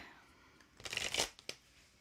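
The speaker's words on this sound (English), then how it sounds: "All right, I'm shuffling for you, Judith." A deck of tarot cards is shuffled nearby: a quick riffling burst that peaks and then ends with a single soft snap, set against a quiet room with no talking.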